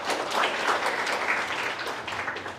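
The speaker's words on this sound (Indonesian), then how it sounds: "Tepuk tangan buat kawan-kawan Semar." Workers at a labor federation congress applaud fellow union members, a crowd of many hands clapping in a dense, moderately loud burst that tapers off near the end.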